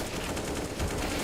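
Rapid pistol fire in a competitive multiplayer video game match, a dense rattling stream of overlapping shots with no pause, loud and continuous across the brief moment.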